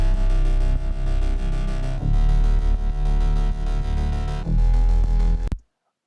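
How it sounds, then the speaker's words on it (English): Three layered bass synths, mid, low-mid and sub, playing together as one thick, distorted, buzzy bass line in steady loud phrases before stopping suddenly. "those 3 bass sounds mesh really well together"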